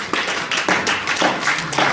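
A church congregation claps along in a steady rhythm, with a sharp burst of hand claps roughly every half second that carries through the hall at a fairly loud level.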